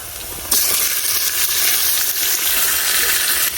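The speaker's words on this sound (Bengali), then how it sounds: "এ মাছ মশলা সহ একবারে দিয়ে দেন" Tilapia coated in spice paste hits hot oil with fried onion, bursting into a loud, close sizzle that then holds as an even hiss to the end.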